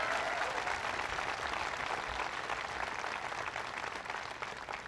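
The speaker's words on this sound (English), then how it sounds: "Give Jim Jacobs a big round of applause." Sustained, dense audience applause fills a college hall at a presidential event, steady and loud throughout and easing slightly toward the end.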